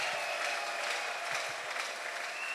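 A church congregation at an evangelical gathering in Lukunga applauds in praise, a continuous, even patter of many hands clapping together throughout.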